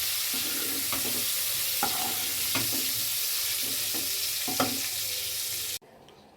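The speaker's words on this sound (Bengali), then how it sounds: "ওই তেলেই ভেজে নিচ্ছি চিংড়ি মাছ।" Prawns fry lightly in oil for a Bengali potol dorma with a constant hissing sizzle, broken by occasional stirring clacks. The sound stops abruptly near the end, and no one talks.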